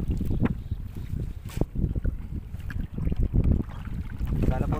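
Gusty wind buffets the microphone outdoors by a boat on a fishing trip, rumbling in uneven bursts with some faint voices underneath.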